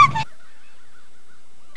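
A crow gives one short, harsh caw right at the start, loud and close, followed by near silence.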